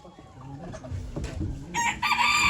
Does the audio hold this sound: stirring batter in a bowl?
no